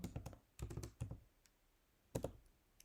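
Code is typed on a computer keyboard in quick bursts of crisp key clicks, separated by short pauses, close and moderately loud.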